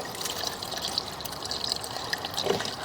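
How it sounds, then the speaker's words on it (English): Water flowing steadily through a residential sewer pipe during an inspection, a continuous close trickling and gushing wash with no voices. "We're going to get the water stopped here"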